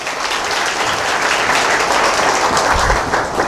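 Audience applause fills a hall, a steady dense wash of many hands clapping at close range throughout, with no speech over it.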